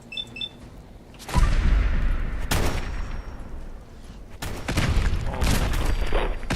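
Gunfire in the video game Fallout 4 with the Sim Settlements 2 mod: loud bursts of rapid shots in three volleys, around 1.3, 2.5 and 4.4 seconds, with echoing blasts and rumble between them and no talk.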